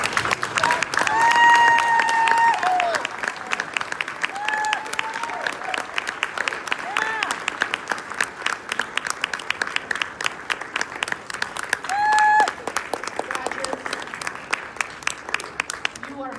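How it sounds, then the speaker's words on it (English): An audience applauds graduates after a keynote address, sustained clapping with some cheering and whistles, loud at first and continuing steadily throughout. "let's give a big applause to our graduates"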